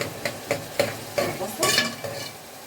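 Onions frying in a pan, stirred with quick scraping strokes about every quarter second over a constant background sizzle, close and moderately loud, with no talking.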